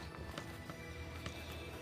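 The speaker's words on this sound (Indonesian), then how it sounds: "Jadi kita udah bisa nunggangin kuda dan membawanya ke tempat lain." Horse hooves clip-clopping while a horse is ridden in the Westland Survival video game, a steady, soft rhythmic trot with low ambient rumble beneath.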